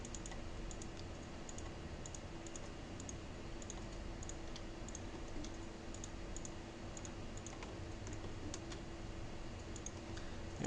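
Computer mouse clicks while edit seams are picked on a 3D body mesh during UV unwrapping, a string of light, sharp, evenly spaced clicks over a soft steady background hum.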